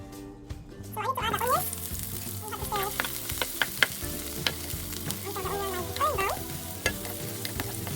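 Garlic frying in a couple of tablespoons of oil for a chicken jalapeño dish, a close sizzle under scattered spoon scrapes and bright pan clatter, with musical tones running beneath and no one speaking.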